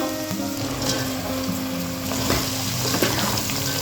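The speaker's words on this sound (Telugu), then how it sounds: "ఇప్పుడు దీంట్లోనే కాకరకాయ ముక్కలు వేసేసుకుందాం" Bitter gourd pieces sizzle loudly in hot tempering oil for a tangy bitter gourd curry, a steady close frying hiss with scattered crackles and a soft stirring clatter.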